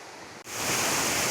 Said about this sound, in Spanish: por ahí baja el arroyo Xurbeo, que vamos dejando poco a poco atrás